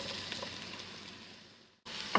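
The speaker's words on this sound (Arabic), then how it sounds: "راح نضيف له القليل من الزيت النباتي او زيت الزيتون حسب الرغبة، وراح نضيف البصل" Onion sizzles in vegetable oil in a cooking pot, a steady close crackling hiss that fades briefly before a stirring clink returns with the sizzle.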